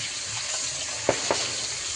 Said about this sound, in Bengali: এখন মাছের মাথা আর লেজা আর কিছুটা দাগা ভাজা চলছে